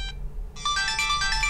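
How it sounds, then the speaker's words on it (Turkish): An old mobile phone plays a polyphonic ringtone melody: a brief tone, a short pause, then a bright, quick run of clear synthetic notes, loud and close. "Bak bir açayım da bir tane dinle melodilerini."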